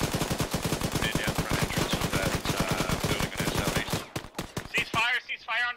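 Rapid automatic gunfire in the Arma 3 video game during a jungle assault, a dense rattling burst of shots close by, then thinning into scattered single cracks under brief radio-style voices.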